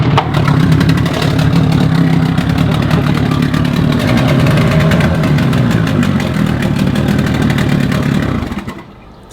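Two-stroke outboard motor on a dinghy runs loud and close with a buzzy, rattling drone that holds steady for several seconds, then cuts out abruptly near the end.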